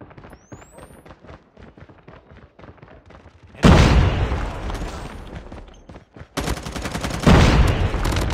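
Rapid gunfire in a Call of Duty Mobile 5 vs 5 multiplayer match, with loud automatic bursts and booming shots breaking over a quieter stretch of lighter clicks and footsteps.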